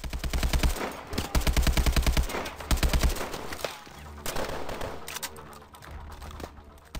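Rapid automatic weapon fire in Call of Duty: Advanced Warfare, close and loud, rattles in fast, rhythmic bursts for about three seconds, then breaks into scattered single shots and quieter combat noise.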